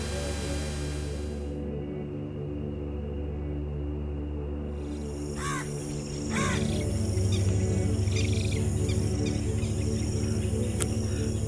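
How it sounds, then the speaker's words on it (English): Birds call constantly at a large black-headed ibis and crane nesting area in Surajpur Wetlands, with insect-like chirring over a steady outdoor hum and a few louder calls nearby. "A very big nesting area over there for the Black Headed Ibis, the cranes."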